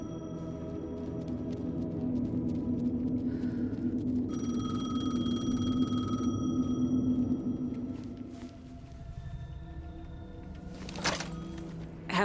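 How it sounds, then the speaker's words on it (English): A payphone rings in the Alan Wake 2 video game. A repeating electronic ring sounds at moderate volume over a low ambient drone, and a few thuds and clicks follow near the end. "The payphone was ringing."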